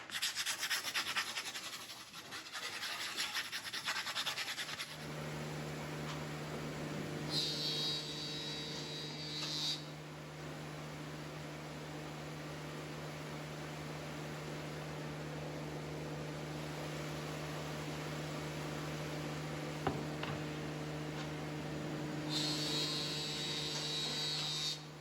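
A Felder AD951 planer runs steadily while skimming plywood, a low motor drone with a whining hiss that swells at the start and briefly again mid-pass and near the end; close and continuous, no talking.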